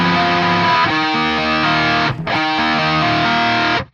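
Distorted electric guitar plays a riff, a struck chord followed by individual picked notes, loud and alone, with a brief gap near the middle before the pattern repeats.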